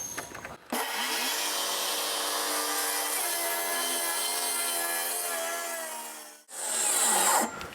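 A power saw fed aggressively through a wooden box beam makes a loud, steady, close cutting whine for about six seconds before it stops, with a brief burst of noise afterward.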